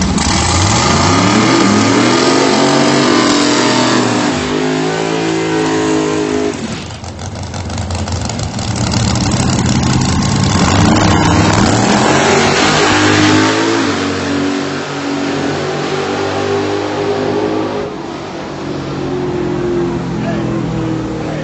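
Two nitrous-fed drag racing cars, one of them a Mustang, roar hard down the strip in a loud, sustained run, engines rising through gear changes with a brief dip midway before surging again.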